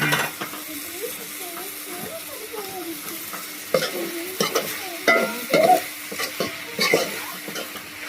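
Tomatoes sautéing in a pan, with a low sizzle under clattering stirring and scraping strokes that grow busier midway, while a voice speaks at times.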